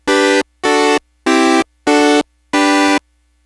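Arturia PolyBrute synthesizer with both VCOs running through the mixer into an open ladder filter, five bright, buzzy sustained notes of equal length separated by short silences, loud and alone.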